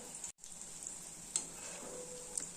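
Banana flower kofta balls fry quietly in a pan, a faint, steady sizzle of oil with a couple of light taps, close and calm with no talking.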